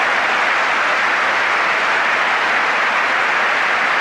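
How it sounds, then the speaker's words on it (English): Stadium crowd applauding at a Manchester United versus Ipswich Town football match, a continuous wash of distant clapping from thousands of spectators, steady and even throughout with no clear voices on top. "Applause rings round the ground"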